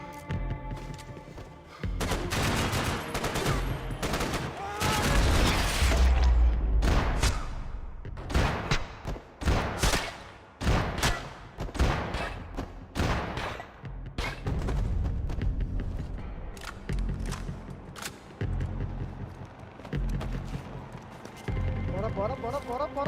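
Gunfire in Max Payne 3, a long stretch of loud shots, bursts and thumps coming in dense clusters with short lulls, mixed with in-game clatter and someone speaking over it.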